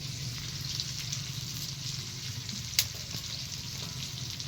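Bay leaves and ginger-garlic paste fry in hot oil for a chicken curry cooked over a clay stove, giving a steady close crackling sizzle with one sharp pop midway.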